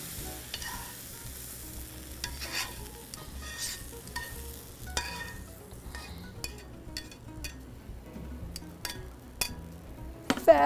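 Brined pork chops lifted out of a frying pan, a quiet background sizzle broken by intermittent metallic scrapes and clinks of utensils against the pan and plate.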